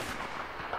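Gunfire in S.T.A.L.K.E.R. comes as a faint, brief burst of muffled shots at a distance, with no talking over it.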